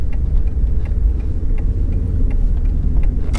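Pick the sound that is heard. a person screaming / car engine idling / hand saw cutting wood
car engine idling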